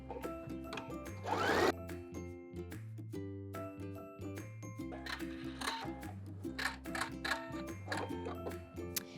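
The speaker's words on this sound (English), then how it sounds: "So let's sew down the first part of this pocket." A sewing machine stitches down part of a double welt pocket, its quiet rhythmic ticking and whirring running in short bursts with brief pauses between them.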